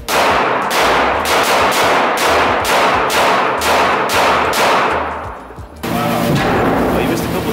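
Gunfire from a helicopter-mounted chopper gun, loud and close, with a run of heavy shots in quick succession before a brief dip and a denser burst of rapid fire near the end.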